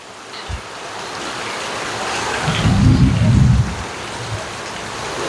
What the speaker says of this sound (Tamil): இன்று கடுமையான காற்றுடன் கூடிய கடுமையான மழை பெய்கின்றது